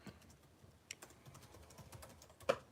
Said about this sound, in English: I'm just typing up